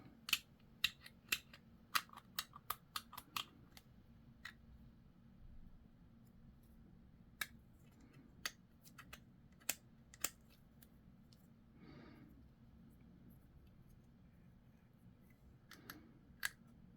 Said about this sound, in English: It's getting harder and harder to cut this right with these rotten clippers